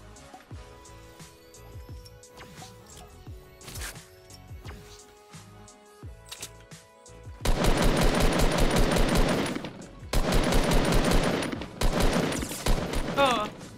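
Gunfire in the Fortnite Battle Royale video game: scattered single shots at first, then dense bursts of rapid automatic fire in loud stretches, with brief gaps between volleys.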